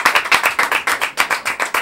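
A group of people clapping in a quick, steady rhythm of sharp, close claps for about two seconds, with no talking.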